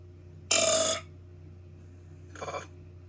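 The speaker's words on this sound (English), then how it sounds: "The burp is a little bit too soon, so we're going to move it down" A cartoon burp from an animation soundtrack, a loud, rasping belch lasting about half a second, then a shorter, softer second burp, both standing alone over a low steady hum.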